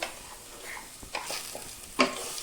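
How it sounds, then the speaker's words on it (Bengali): Moong dal fries in a pan with panch phoron tempering and chopped ginger, a soft, steady sizzle broken by a few close stirring scrapes and a sharper clink near the end. "আমি মুগ ডালটা ভেজে নিই, আমি ফোড়ন দিয়ে ভেজে নেব"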